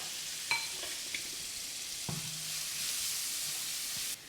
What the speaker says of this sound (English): We're gonna go ahead and saute our vegetables right now